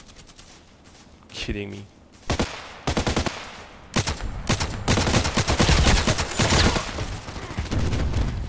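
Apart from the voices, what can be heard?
gunfire in the video game Contract Wars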